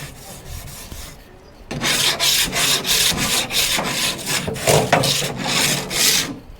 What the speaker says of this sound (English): I like to use a scraper, and then I do a visual inspection to make sure there's nothing left.